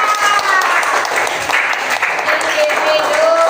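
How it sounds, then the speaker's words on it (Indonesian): Dense clapping from a small group, continuous and fairly loud, with voices and chatter mixed in throughout. "Oke, pintar, tepuk tangan untuk Mas Hamka."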